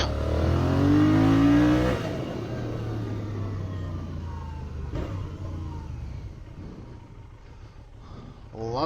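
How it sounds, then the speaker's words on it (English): A Benelli Leoncino 800 motorcycle, a roughly 755cc twin with a 270-degree crank, revs hard with rising pitch, then settles to a steady engine drone with wind noise under the ride, a voice talking over it. "Love the sound of this engine."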